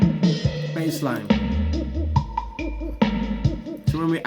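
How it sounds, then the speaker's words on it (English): Reggae bass line from the track plays loud and steady, deep sustained notes in a slow rolling groove with drums and percussion continuing above it. "Bass line."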